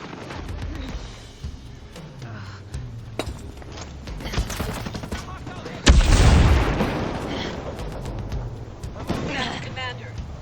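Heavy exchange of gunfire in the tactical shooter Ghost Recon Breakpoint, dense shots and booms throughout with a loud burst midway, running under game voices.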